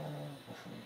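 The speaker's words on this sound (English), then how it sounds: "my dog, if you can hear it" A dog whimpers and whines nearby in a quiet indoor room, with a steady, soft, plaintive tone that rises slightly near the end.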